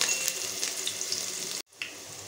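Ginger and garlic sizzle steadily in hot oil while egg fried rice is being made, a dense close crackle that cuts out briefly near the end and then resumes.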